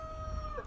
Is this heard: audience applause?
no